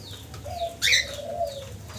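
A pigeon's soft coo close by, with a brief sharper chirp midway and light ambient noise.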